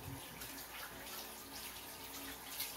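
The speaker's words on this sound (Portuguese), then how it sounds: "passando água nos legumes" Tap water runs steadily over vegetables being rinsed in a kitchen sink, a faint, continuous splashing stream with no pauses.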